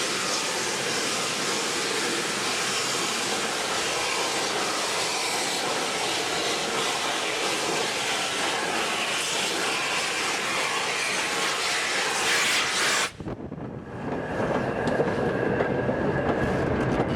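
The steam locomotive Tornado crosses a railway bridge over a river, a loud, steady roaring rush of train noise holding for many seconds before abruptly dropping to a quieter rumble near the end.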